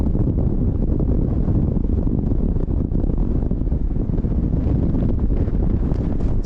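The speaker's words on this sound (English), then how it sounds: "It is very windy" Strong wind buffeting the microphone on a small hill overlooking the North York Moors, a loud, continuous roaring rush with no break and nobody speaking.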